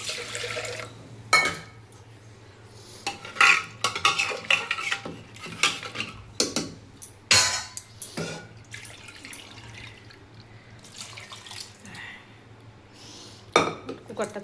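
A utensil clatters and scrapes against a pot while khichdi is stirred with added hot water, giving irregular metallic knocks and clinks with wet sloshing between them and quieter stretches.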